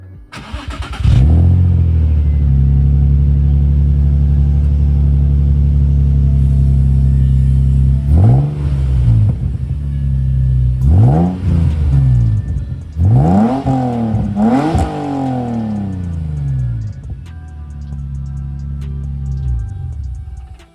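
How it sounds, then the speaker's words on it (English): A Nissan 350Z with a new exhaust starts and idles with a deep, loud exhaust rumble, then revs sharply several times in quick bursts before settling back to idle. "let me give it a quick rev"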